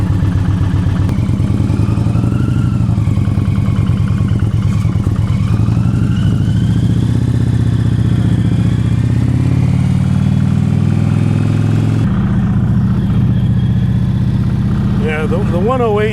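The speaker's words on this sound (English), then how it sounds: "That exhaust got that growl, got that pop to it." An Indian Challenger motorcycle with a 108 engine, stock apart from Tab Performance slip-on exhausts, runs close by with a steady deep rumble. The revs rise and fall, and the sound ends in a clattering burble.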